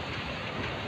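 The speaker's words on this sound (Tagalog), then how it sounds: "Tapos biglang umulan." A sudden rain shower pours down outside a 19th-floor building on a hot afternoon, a steady, dense hiss of rainfall that holds evenly throughout the short moment with no voices.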